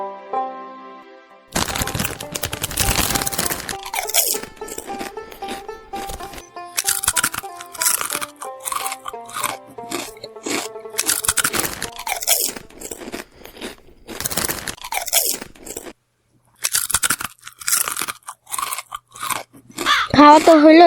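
Someone chews chips close to the microphone, each bite a loud crunch that cracks and crackles in an irregular rhythm. A short silent gap falls near the end, and a voice breaks in faintly now and then.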